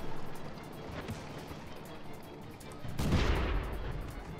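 A tank cannon fires in the World of Tanks video game, a deep booming blast about three seconds in over a rumbling engine bed, loud and close.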